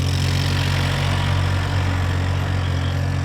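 A tractor engine runs steadily while driving a lap of a field, giving a constant low rumbling drone at even loudness throughout, with no voices.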